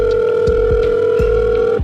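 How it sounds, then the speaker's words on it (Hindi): An outgoing call from an Apple iPhone 13 Pro rings back with a steady, loud two-tone ringback tone, clear and alone across the whole stretch, broken only by faint soft knocks. "अब 13 Pro से कॉल करूँगा, उठा ले।"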